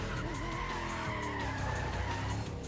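A race car in Need for Speed ProStreet skids steadily through an oversteer slide, its tires squealing and engine droning without a break, close and continuous for the whole stretch, with no talking.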